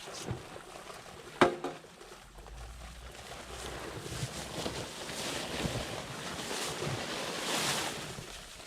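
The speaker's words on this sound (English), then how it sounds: "But this, you don't have to mix it ahead of time. Just pour the water in." Water poured from a container into a post hole of dry fast-setting concrete around a fence post, a sharp knock followed by a rising rushing splash that swells and fades over several seconds, with no speech.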